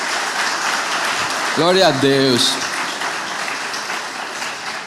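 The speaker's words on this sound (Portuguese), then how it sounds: "Dá uma salva de palmas ao Senhor." A church congregation applauds in steady, dense clapping that runs the whole way through, while a voice calls out briefly over it partway in.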